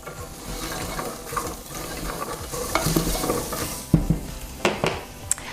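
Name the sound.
garlic sautéing in a pot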